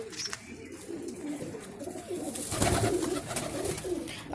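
Pigeons coo inside their coop, soft throaty calls repeating close by over a steady background hum, with no voices.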